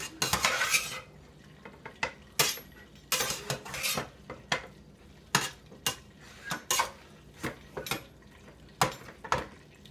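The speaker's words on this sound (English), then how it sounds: "So I'm mixing that shrimp well into there." Shrimp is stirred into an egg roll filling of cabbage and bean sprouts, with repeated clinks and scrapes of a utensil against a bowl in an irregular rhythm, close and clear.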